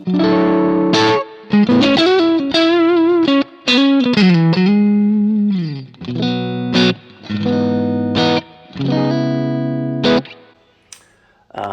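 Crunchy electric guitar through a BluGuitar AMP1 amp run direct, with strat-like in-between tones: a series of chords and riffs, some notes bending down, with brief pauses between phrases and a final note fading out.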